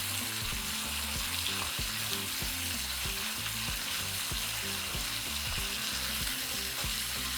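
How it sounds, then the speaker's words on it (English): Cubed beef, ground beef and chorizo frying for discada norteña tacos in a pan on a stovetop, giving a steady loud sizzle with regular stirring scrapes throughout and no talk. "we're going to add 1 pound of cubed beef, 1 pound of ground beef, and 1/2 pound of chorizo. Just break it all down."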